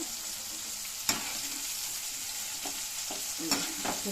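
Masala for a Coimbatore-style chicken gravy fries in a pan with a soft, continuous sizzle. A sharp spoon scrape cuts in early, and lighter stirring knocks follow toward the end, all at close range with no talking.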